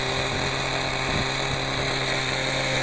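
A .18 nitro RC helicopter engine idles steadily and close by, a continuous buzzing drone with a constant pitch and no pauses, heard alone throughout.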